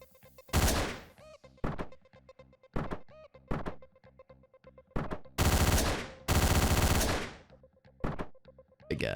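Gunshots in the video game Hotline Miami: a series of loud, punchy shots fired singly and in quick bursts, separated by short gaps, with no talking.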